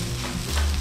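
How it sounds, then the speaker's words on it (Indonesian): Kimchi fried rice with gochujang, chili powder and kimchi stirred in a frying pan, a brief close burst of sizzling and scraping. "Oke, kita aduk rata lagi."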